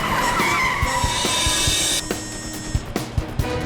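A cartoon car brakes hard with a long, loud, high tire squeal, which cuts off abruptly and leaves a few scattered clicks and knocks as it comes to a stop.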